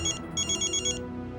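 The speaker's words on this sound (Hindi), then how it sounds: "मेरे बॉस का फोन है।" An incoming-call phone ringtone sounds as a run of bright, repeated electronic tone bursts in quick rhythm, loud and close, before it cuts off.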